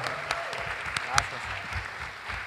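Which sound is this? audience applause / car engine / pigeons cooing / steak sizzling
audience applause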